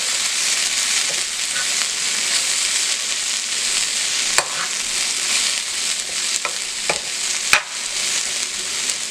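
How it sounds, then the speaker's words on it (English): Callaloo, Jamaican spinach, sautés in a pan with a steady, loud, close sizzle throughout, broken by a few sharp clicks of utensils against the pan. "Then you just let it saute"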